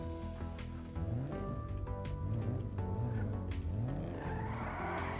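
A car in Grand Theft Auto V pulls away, its engine revving up through rising gear sweeps with a brief tire squeal, loud and close with no talk.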